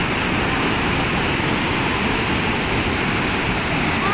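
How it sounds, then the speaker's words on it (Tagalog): A loud, steady roar of water released through Angat Dam during flooding, dense and unbroken like a torrent pouring through a spillway, with no pauses throughout. "nagpakawala na ng tubig sapagkat talagang napakadami na po"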